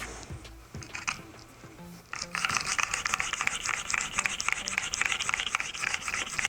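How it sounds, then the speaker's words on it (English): A chisel held in a sharpening jig at 27.5 degrees is stroked across a stone: a few light scrapes, then a steady run of rapid, gritty back-and-forth rasping, close and distinct, with no talk. "we're gonna sharpen this one again."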